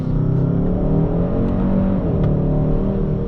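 A 2021 Hyundai Sonata N Line engine revs steadily in normal mode with a manual shift setting, a continuous in-cabin drone with rising harmonics and a faint vacuum-like whoosh at the higher revs.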